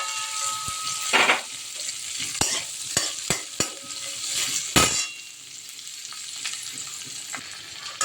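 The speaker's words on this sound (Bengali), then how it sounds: "আদা পেঁয়াজ রসুনটা ভাজা ভাজা হয়েছে" Steady sizzling of chopped ginger, garlic, green chilli and onion frying in oil, with several sharp clinks of a utensil stirring against the pan.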